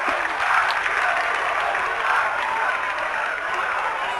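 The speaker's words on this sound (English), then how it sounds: "I believe that we will win chants erupting from the Columbus crowd." Crowd in the stands at a high school varsity football game between Christopher Columbus and Belen Jesuit, heard as a dense, sustained roar of many voices and clapping with no clear rhythm.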